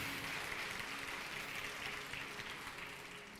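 A church congregation applauds, a faint, distant wash of sustained clapping that holds steady and slowly fades.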